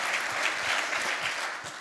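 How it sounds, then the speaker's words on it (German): Audience applause at a public talk between Angela Merkel and Chimamanda Ngozi Adichie, a dense, steady clapping from a large crowd filling the room, even and sustained without voices on top. "Sie dürfen klatschen."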